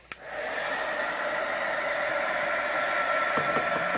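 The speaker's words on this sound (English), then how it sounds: "Here, let me get the heat gun." A heat gun blows hot air over a wet acrylic paint pour, switching on with a click and then holding a loud, steady close-up whoosh with no pause.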